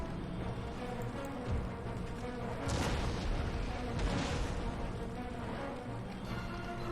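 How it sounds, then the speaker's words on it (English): Battle in Empire: Total War with Ottoman forces, a dense, continuous wash of distant musket volleys and artillery booms, with a couple of heavier thuds standing out amid the rumble. "So you guys keep shooting in there, that looks good."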